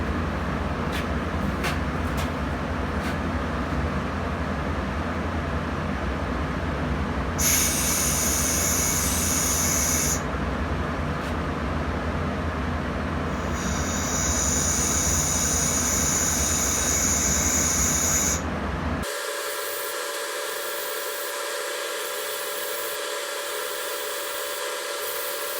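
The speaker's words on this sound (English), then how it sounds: "handy dandy little air compressor. One with like a sensitive nozzle" An air compressor with a sensitive nozzle blows powder out of wheel rim threads: a steady, loud rushing hiss that runs throughout, with sharper high hissing bursts coming and going, then a thinner, quieter airflow near the end.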